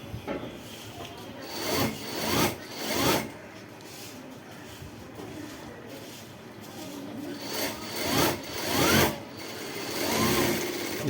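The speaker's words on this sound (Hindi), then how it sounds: "फिर यहाँ पर सिलाई लगा लेते हैं एक पैर की" A sewing machine stitching a pant leg runs in several short bursts of whirring, a couple of quick runs early and a few more near the end, with quieter handling of fabric between them.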